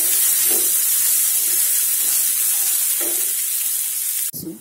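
Onion, ginger and garlic sauté in a pan for palak paneer, giving a loud, steady sizzle close up with faint stirring scrapes, ending with a brief knock.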